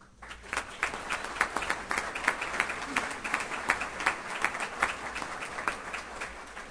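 Audience applause at a Nashua Republican City Committee forum for the 2nd Congressional District, a steady patter of many hands clapping from a room of people, moderately loud and continuous throughout.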